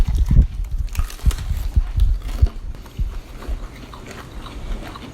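Loud crunchy bites and chewing of Popeyes fried chicken, close to the mouth, several crisp crackling bursts in quick succession with no talk over them.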